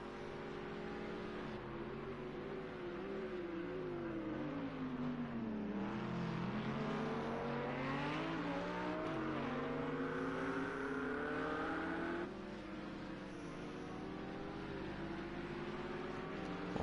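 GT3 race cars, including a Lamborghini, lapping the Dubai Autodrome GP in Project Cars 2. Engines whine steadily and rise and fall through gear changes, with overlapping cars droning together throughout.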